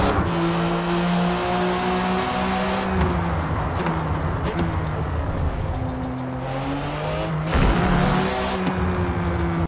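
Race car engines from the Forza Motorsport video game drone and shift pitch continuously, with loud revving surges and brief gear changes, no talk.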